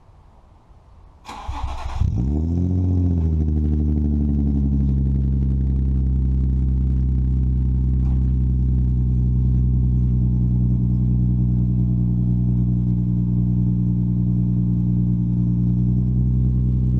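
A Nissan 350Z with an Agency Power exhaust cold-starts with a short starter crank, then catches and settles into a loud, deep, steady high idle that holds to the end.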